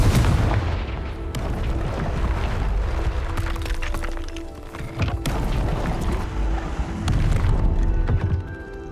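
Spell blast in Hogwarts Legacy shattering rocks: a loud, sustained booming rumble with crackling debris and sharp impacts, repeated bursts over several seconds, no voices.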